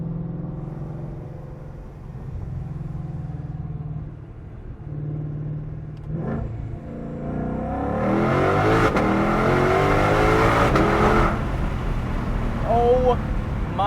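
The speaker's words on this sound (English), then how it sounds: "Each upshift, that crack you get is just deafening." A 2022 Shelby GT500 accelerates hard inside a tunnel, its engine rumble rising to a loud roar with sharp cracks on the upshifts, echoing off the walls while someone talks over it.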